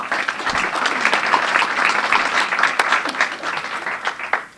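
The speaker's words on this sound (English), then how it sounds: "Please give him a round of applause." Steady, dense applause from a large audience, sustained throughout at an even loudness.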